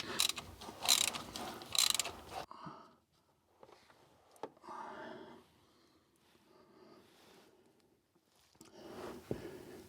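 A 3/8 inch drive ratchet clicks in short bursts while working on the front differential plug of a Mazda BT-50 / Ford Ranger, with rattling handling sounds and pauses between.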